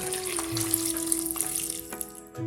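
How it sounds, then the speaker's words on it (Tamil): Water runs and splashes steadily into a pot, like liquid poured from a tap or jug, close by over a constant background hum, while cooking bottle gourd kootu. "தேவையான அளவு தண்ணி ஊற்றிக்கலாம்."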